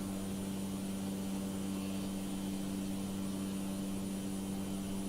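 A Cessna propeller plane in Microsoft Flight Simulator 2020 drones with a steady, even engine hum and buzzing harmonics, continuous and fairly faint, with no other sounds.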